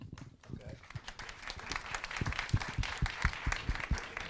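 An audience at a documentary preservation summit keynote panel claps in a light, scattered patter of individual hand claps, faint and uneven, with voices talking over it.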